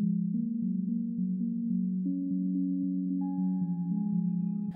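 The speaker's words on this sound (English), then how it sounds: "Next is a sound called Aurora over Iceland." Aurora over Iceland, a synth patch from Alchemy, plays a soft sustained pad of layered tones that shift chord slowly, a higher tone entering partway through, steady and alone.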